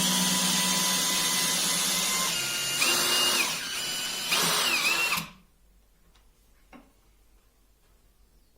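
A DeWalt drill drives a long screw of almost 11 cm into a pre-drilled hole in wood, whirring loudly for about five seconds with its pitch rising and falling, then cutting off into near quiet with a few faint clicks.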